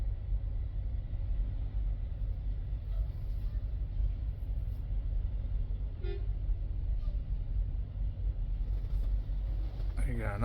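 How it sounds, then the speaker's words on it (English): Traffic rumbles low and steady while a car horn toots briefly a few times in the distance during a truck parking manoeuvre, with faint voices present. "I got another one over there honking"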